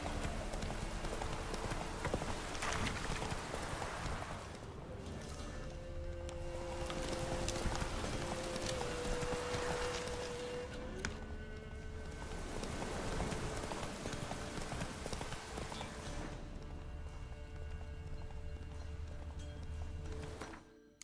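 Roach the horse in The Witcher 3 game clip-clops along with steady rhythmic hoofbeats, loud and close for most of the stretch, fading briefly in spots before ending.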